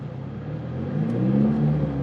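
Ford Mustang with a 10R80 transmission, parked, its engine revving and held near a launch control RPM limit: a low, steady hum that swells slightly, alone and fairly quiet.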